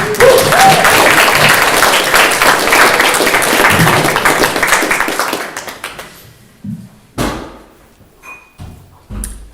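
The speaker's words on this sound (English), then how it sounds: "let's give her a round of applause" An audience at a museum speaker series gives a loud, dense round of applause that thins out after several seconds into a few scattered claps, thumps and shuffles.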